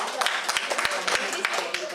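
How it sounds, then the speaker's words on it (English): At a women entrepreneurs' gathering celebrating World Yoga Day, a modest audience gives a round of applause, scattered distinct claps beating irregularly while people talk over them. "Please give him a round of applause."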